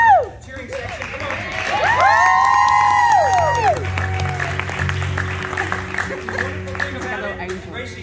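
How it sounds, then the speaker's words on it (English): A family cheers, whoops and claps at an outdoor river baptism, loud and close at first, then tapering into scattered clapping and chatter. "She has a cheering section."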